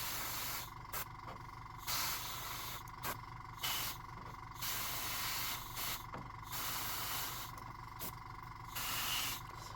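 An airbrush sprays paint onto a miniature model in repeated hissing bursts of a second or two, separated by brief pauses, steady and close.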